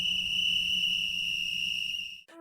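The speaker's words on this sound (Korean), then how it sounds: "그레이몬처럼 호루라기 소리를 듣고 눈을 뜬 아이들" A shrill, steady whistle sustains at one high pitch for about two seconds, then cuts off abruptly.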